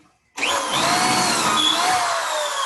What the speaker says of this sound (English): this particle board we're drilling into is relatively soft and easy to drill